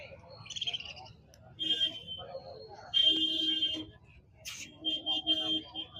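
Birds for sale at the Erragadda Sunday market in Hyderabad, pigeons among them, give repeated high chirps and calls in bursts, fairly close, over faint market noise with voices.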